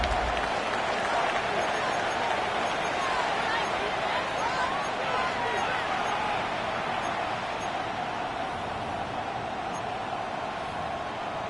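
Stadium crowd in the Madden 26 football video game roars steadily through a third-down play, a dense sustained wash of cheering and noise at constant loudness with a commentator's voice faintly mixed in.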